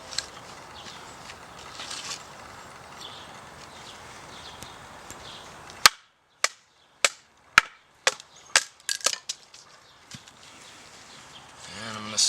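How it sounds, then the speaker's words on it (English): Firewood is split into small pieces by batoning. After a quieter rustling stretch comes a run of about eight sharp, close wooden knocks spaced roughly half a second apart. "So we're chopping it up into little pieces to get it drying out more"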